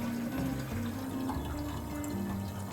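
A battery-operated pump transfers kerosene from a jerry can into a heater tank in an old Japanese house in winter, a steady close-up motor hum with a trickling liquid flow running throughout.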